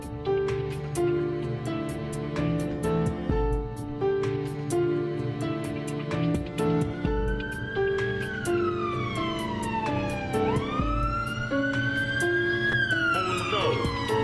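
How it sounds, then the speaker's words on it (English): A police car siren wails over a cartoon scene, its rising and falling tone sweeping repeatedly across the second half, loud and prominent above music and background effects. "To the police car."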